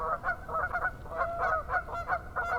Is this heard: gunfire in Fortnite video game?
no